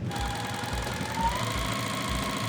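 A sewing machine stitches quilt strips together into a four-patch quilt block, a steady low mechanical whirr with a faint rhythmic chug, close and continuous.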